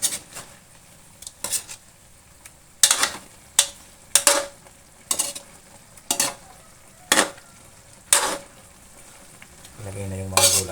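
Food fries in a pan, a soft sizzle underneath repeated sharp scrapes and clinks of a utensil stirring against the metal, coming in irregular strokes and heard up close.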